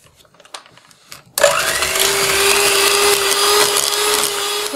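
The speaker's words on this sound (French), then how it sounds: "on mélange jusqu'à ce que ça soit bien blanchi" An electric mixer switches on to beat softened butter with powdered sugar for sablé cookie dough, a steady loud motor whine holding a constant pitch after a quiet start.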